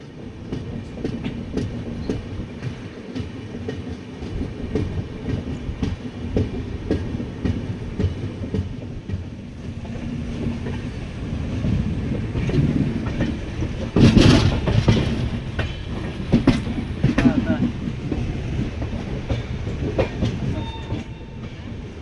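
Passenger train running on rails between Varanasi and Deoghar in India, a steady loud rumble with rhythmic clickety-clack of wheels over track joints, swelling briefly near the middle, with no talk.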